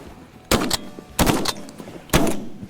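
Three loud shotgun blasts ring out during a field duck hunt for pintails, spaced roughly evenly apart, each a sharp, close crack with a short ringing tail.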